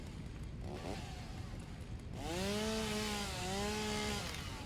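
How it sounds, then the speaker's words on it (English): A chainsaw in Satisfactory clears vegetation, a loud, close rasping roar that rises in pitch and wavers, preceded by a softer engine rumble and a brief tonal sweep. "Do I not have the chainsaw anymore? No, I have got the chainsaw."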